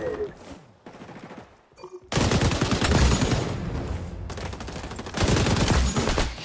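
An M249 machine gun fitted with an 8x scope fires in XDefiant, sustained loud automatic bursts with brief gaps, the heaviest volleys coming in two long stretches after a quieter opening.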